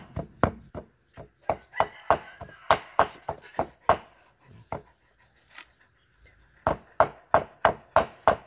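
A knife chops picked eel meat into small pieces on a board for Isan-style eel koi, sharp close thuds in quick, regular runs with a brief pause midway before the rapid chopping resumes.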